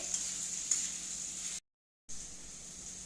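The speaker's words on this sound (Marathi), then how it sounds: "आपण याच्यामध्ये टाकूया गाजर ते सुद्धा आपल्याला एक दोन ते तीन मिनिट परतून घ्यायचं आहे" Carrots and tomatoes stir-frying in a pan give a steady, close sizzling hiss with a couple of light scrapes early on, broken by a brief silent gap before the sizzle resumes.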